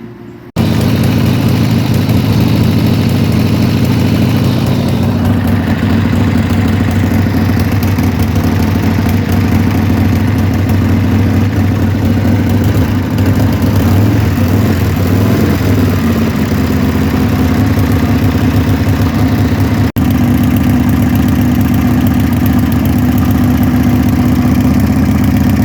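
A Harley-Davidson Evo motorcycle engine fitted with a PC Racing high-flow oil filter runs steadily at idle, loud and close throughout, with an even mechanical drone and no voices.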